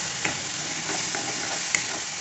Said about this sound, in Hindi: हमारा मसाला भून रहा है, अब हम इसमें डालेंगे ये टमाटर की प्यूरी और इसको अच्छे से